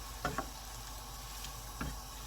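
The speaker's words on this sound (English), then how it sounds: "it needs to simmer away for a good 15 minutes" Sausage pasta tomato sauce simmering gently in a pan, a soft continuous bubbling hiss with a few brief louder pops, quiet and close, no voices.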